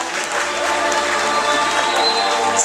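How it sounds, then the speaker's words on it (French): An audience at a children's fashion parade in Saint Denis claps for a little girl on the runway, steady close applause with some cheering throughout. "On l'applaudit plus fort que ça"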